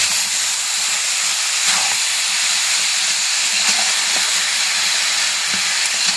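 Boiled potatoes and cabbage sizzle in a hot pan, a loud, close, steady hiss that holds unbroken throughout with no talk.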